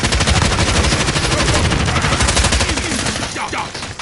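Automatic weapon fire in a video game: a loud, rapid burst of shots that runs almost continuously, then tapers off near the end.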